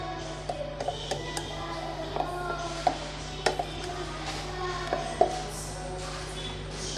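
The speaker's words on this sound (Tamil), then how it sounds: "இப்போ நல்லா கலந்து விட்டுறலாம்." A spoon stirs ragi dosa batter seasoned with salt and cumin in a bowl, giving scattered light taps and clinks against the vessel over a low steady background hum.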